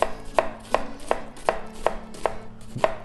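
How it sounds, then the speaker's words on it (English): A knife chops white onions on a cutting board in a steady, evenly spaced rhythm of about eight crisp, close knocks, with no voices present. "So first I need to cut onions. I use today white onions."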